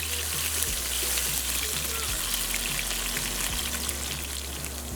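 Aromatics fry in a pot over an open fire for Trini curry duck, a dense, steady sizzle like heavy rain, with a low crackling fire and faint background rumble throughout.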